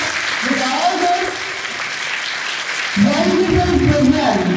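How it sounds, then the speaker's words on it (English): Applause from an audience at a school Christmas celebration in Indore, a steady broadband patter mixed with voices, swelling louder for the last second and a half. "We need to really give an applause for their hard work today"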